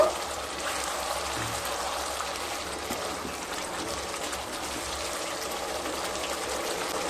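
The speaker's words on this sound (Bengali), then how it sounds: "এবার দিয়ে দেব খুব সামান্য জল, প্রায় 100 ml মতো জল দিয়ে দিলাম" About 100 ml of water poured into a pan of paneer masala, giving a soft, continuous trickle and gurgle that holds steady for several seconds, close and fairly quiet, with no talking.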